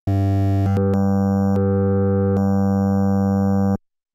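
A sustained, buzzy wavetable oscillator tone from an ASM Hydrasynth synthesizer with rich harmonics, its timbre shifting slightly a few times before cutting off abruptly.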